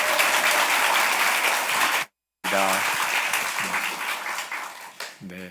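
A church congregation at a summer revival gathering gives a big round of applause to welcome a pastor. The clapping is loud and dense, breaks off briefly, then resumes and fades out under someone speaking.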